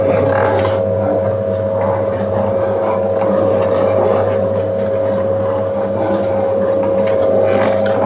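A wooden cold-press chekka ganuga oil mill presses sesame seeds into oil. A loud, steady motorized drone hums without a break and carries a strong tonal whine, with a faint voice in the background.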